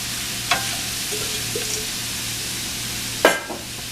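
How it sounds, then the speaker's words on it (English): Mushrooms fry for beef stroganoff in a pan, giving a constant close sizzle with two sharp stirring clacks of a utensil against the pan, and no voices. "I'm going to throw our mushrooms in there"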